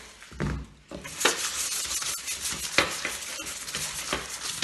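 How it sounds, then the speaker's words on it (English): A piece of foil smeared with butter is rubbed across a metal oven tray, giving close, irregular crinkly scraping strokes with small metallic knocks. "get a bit of foil and a bit of butter, and we're just going to rub it all on the oven tray"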